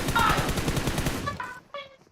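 Rapid machine-gun fire in a video game, a fast even rattle of close, loud shots for over a second before it stops, followed by brief tonal game sounds.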